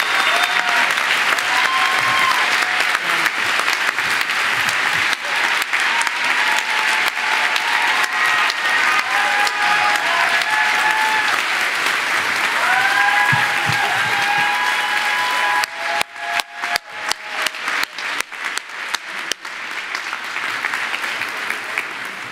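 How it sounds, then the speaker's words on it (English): A large audience at a 2018 graduate school of education convocation ceremony applauds continuously and loudly for over twenty seconds, a dense steady clapping that turns into sharper, more scattered claps near the end. "I think she deserves one more round of applause."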